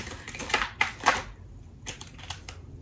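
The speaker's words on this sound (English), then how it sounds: "Let me shuffle." Tarot cards being shuffled by hand, giving quick papery riffles and flicks close up in a few short bursts over a faint background hiss, with no talk.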